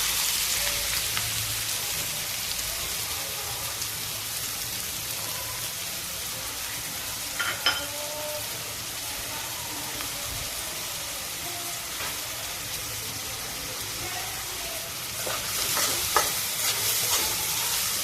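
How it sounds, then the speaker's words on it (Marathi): Finely chopped onion sizzles in three to four spoonfuls of hot oil in a kadhai, a steady bubbling crackle with occasional stirring scrapes and small pops, fairly quiet and close, no talking. "त्यामध्ये मी तीन ते चार चमचे तेल ओतलेलं आहे आता त्यामध्ये मी हा बारीक चिरलेला कांदा टाकते"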